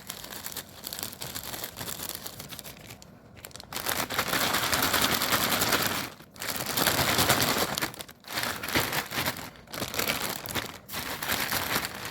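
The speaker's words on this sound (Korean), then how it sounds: "소금이 얼음에 잘 붙도록 한번 섞어주세요." Crinkling plastic bag with ice and salt being shaken and mixed for making ice cream, a rough rustling and crunching in bursts with short pauses.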